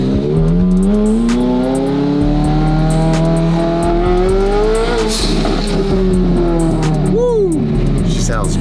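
A 1300 HP McLaren 720 GTR pulls away onto the road, its engine rising loud and close in a long continuous climbing roar with gear changes, while voices are faintly present underneath.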